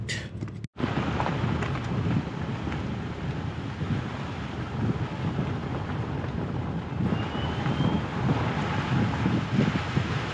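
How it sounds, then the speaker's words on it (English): Wind gusts in through an open car window during a Cape Town road trip, a steady, loud rushing roar with buffeting against the microphone that continues without pause. "I'm sitting with the window open, wind blowing in, so it's a bit cold."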